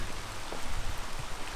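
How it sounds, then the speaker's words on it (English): Steady rain falls on a forest hiking trail in Utah that has turned into running water, a dense, even patter close by with no voices. "It's been raining for about 10 minutes,"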